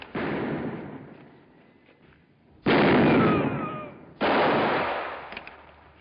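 Three loud rifle gunshots fired at a man hidden behind a barrel in an old Western film, each a sharp crack with a decaying ring, spaced irregularly over several seconds with no talk.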